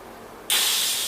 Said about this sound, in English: press the core of the valve. You might get a bit of oil spraying out at you